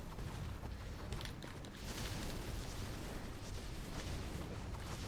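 A dense, roaring burst of explosion effects from a munitions ability in the video game DC Universe Online, loud and continuous like sustained blasts and crackling debris, with no talk over it.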